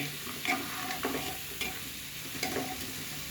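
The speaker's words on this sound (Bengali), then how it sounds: "এখন চাল ডালগুলো ভাজা হয়ে গেছে" Katarivog rice and moong dal frying in ghee in a pan, a soft continuous sizzle broken by several close scraping stirs and light clinks of a spoon.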